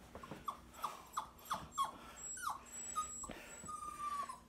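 Dogs whimpering and yelping in short, high-pitched squeals, repeated every half second or so, then a longer drawn-out whine near the end.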